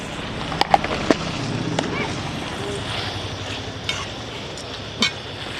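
Goat tripe (boti) frying in a pan gives a steady close sizzle with scattered clinks and stirring scrapes, and a voice speaks over it now and then.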